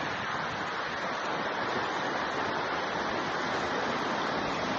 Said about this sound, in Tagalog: Ang sapa.